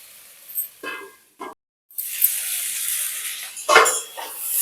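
Mixed vegetables frying with spices in a pan for a lightly spiced Bengali vegetarian dish: a steady close sizzling hiss takes over after a few short utensil clatters and a brief pause, swelling again near the end.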